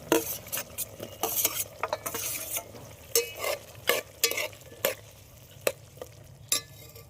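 Chopped tomatoes added to a simmering potato and pea curry in a pan and stirred in, with busy close scraping and clattering spoon strokes over a soft sizzle, the strokes thinning out toward the end.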